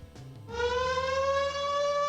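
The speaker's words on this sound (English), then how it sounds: "A siren begins to ring on the bridge." A siren on a rising bridge in the visual novel Code: Realize starts up after a brief murmur, then holds a loud, steady wailing tone that swells and continues alone.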